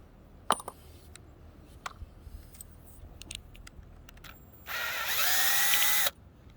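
A power drill works screws out of old minimal gauge railroad track during a rehabilitation job. Faint clicks and knocks come first, then the drill whines steadily for about a second and a half before stopping.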